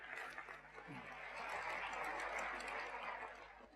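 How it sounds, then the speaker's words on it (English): Conference audience applauding a presenter, steady soft clapping that builds and holds for several seconds at a distance, with a brief voice near the start. "Big round of applause for Chris."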